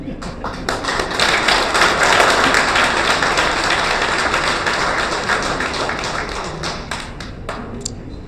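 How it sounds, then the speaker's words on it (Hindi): A crowd at a BSP political rally in Kolkata claps for several seconds in a dense, sustained patter of many hands that slowly thins toward the end, with a voice speaking over it. "तालियों में बड़ी कंजूसी है भाई।"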